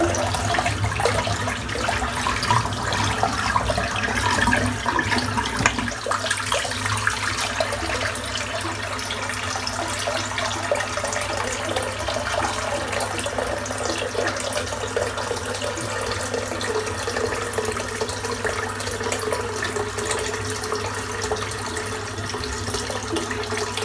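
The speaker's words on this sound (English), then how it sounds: "I'm just going to empty this water out." Water drains steadily from a full bathroom sink after a head shave, a continuous close, fairly loud rushing and gurgling wash that holds for the whole stretch with no talking.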